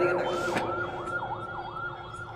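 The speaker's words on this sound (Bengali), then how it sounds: "ডানে কি অ্যাম্বুলেন্স যাচ্ছে" An ambulance siren passes by outdoors, its wailing tone rising and falling steadily at moderate loudness over constant traffic and street noise, with a brief sharp bang near the start.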